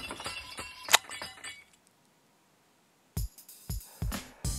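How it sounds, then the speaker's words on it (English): Glass shattering in the White Album: Memories Like Falling Snow video game: a bright clinking burst early on, then silence, then several sharp crashing impacts in close succession. "A second later I hear the sound of breaking glass."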